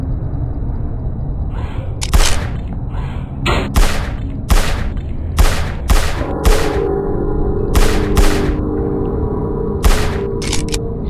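Gunfire in a zombie video game, a series of loud, sharp shots fired singly and in quick pairs at irregular intervals over a steady background rumble.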